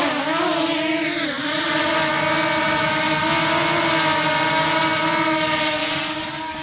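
A Potensic Atom 2, a small consumer drone, hovers close by with a steady high-pitched whining buzz, its pitch dipping briefly near the start then holding level before tapering slightly at the end.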